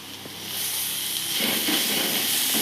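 Green peas tossed with carrots and beans in a hot pan for millet noodles give a steady, close hissing sizzle that holds even and loud throughout, with no voices.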